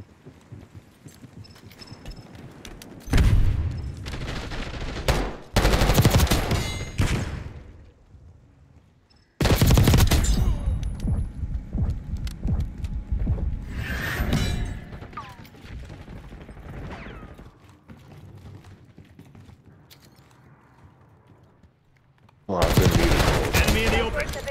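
Rapid SMG bursts from the C9 in the shooter game Black Ops 6, loud and near, fired in several separate volleys with short quiet gaps between them.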